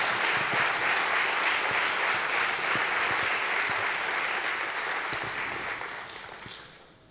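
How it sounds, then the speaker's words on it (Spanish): Church congregation applauding at an evening service, a loud sustained burst of clapping that holds steady before tapering off near the end. "Denle un fuerte aplauso, sí, a Jesús por esta palabra, tremenda palabra de Dios."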